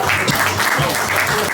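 Loud, steady clapping from a poetry slam audience, a close wash of applause with a faint voice underneath.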